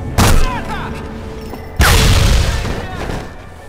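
Two heavy booming grenade blasts in the PC shooter Sniper Elite V2, the first short and sharp, the second a louder, longer rumbling explosion that slowly decays, with players talking over the game sound.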